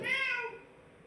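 A single short cat meow, close and fairly loud, fading out within about a second.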